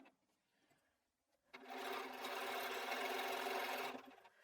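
A sewing machine runs in a quick burst of about two and a half seconds, stitching fabric strips for a pineapple quilt block, after a quiet moment of handling.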